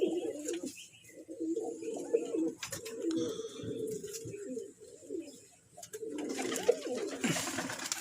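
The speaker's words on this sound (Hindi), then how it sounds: "देख लो दोस्तों, ये मेरा लॉफ्ट है भाई" Several pigeons in a small backyard loft coo in soft, throaty bursts close to the listener, phrases rising and pausing, with a brief lull before the cooing resumes alongside light scuffling.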